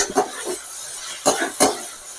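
Fried egg pieces tossed and stirred into a hot pan for Chinese-style fried chilli egg with capsicum, giving three quick scraping, clattering stirs over a soft sizzle, close and moderately loud with no talking.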